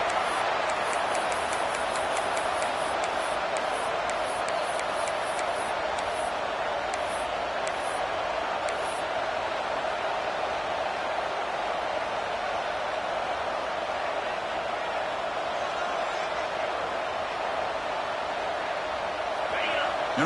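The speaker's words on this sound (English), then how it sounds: "And wow, listen to this crowd noise. This stadium is vibrating." Dense, steady roar of a stadium crowd in a Clemson versus FSU college football video game, loud and continuous throughout with brief crackling bursts near the start, while a commentator talks over it.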